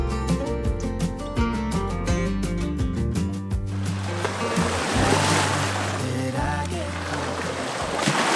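Small waves wash against a summer beach on the Moselle riverbank at Pünderich, a steady broadband hiss that follows a stretch of tonal, music-like sound at the start.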